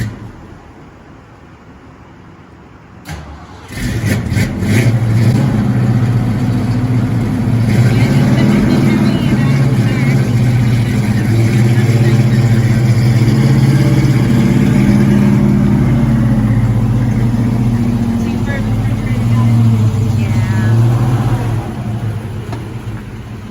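A 1967 Ford Mustang Fastback, just picked up from a storage container, with its loud engine catching after a brief click and then running with a steady deep rumble close by, easing off at the end.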